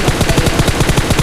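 Rapid automatic gunfire in the mobile battle-royale game PUBG Mobile on the Erangel map, a loud burst of about a dozen evenly spaced shots in quick succession.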